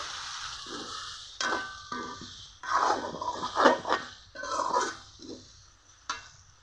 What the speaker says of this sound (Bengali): কাঁঠালের বিচি দেওয়ার পরে আরও কিছুক্ষণ কষিয়ে নিব।